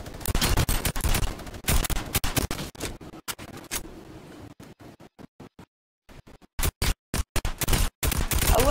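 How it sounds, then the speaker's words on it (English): Gunfire in a duos match of a shooting video game, heard as dense, loud, rapid volleys of sharp cracks, then a short silent gap and a few isolated shots before another burst. "My teammate was able to snipe him down."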